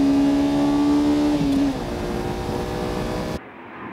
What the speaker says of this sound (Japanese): 1500m のストレートは一気に5速まで加速